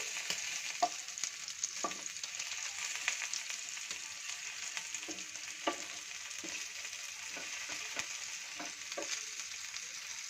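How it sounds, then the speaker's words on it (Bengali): Chicken pieces for lemon garlic chicken fry in a pan with a soft, continuous sizzle, while scattered light taps and scrapes mark the pieces being turned over. "দেখো, তো সবকটা চিকেনের পিসগুলোকে উল্টিয়ে দিচ্ছি"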